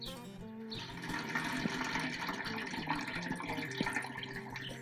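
Water runs and splashes steadily from a rain barrel spigot, a continuous close trickle with faint drips and gurgles.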